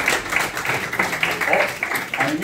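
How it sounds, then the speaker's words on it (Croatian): Audience clapping for a president at a sports photography exhibition, irregular rhythmic applause from a nearby crowd, mixed with voices. "Ljudi, jedan aplauz za predsjednika."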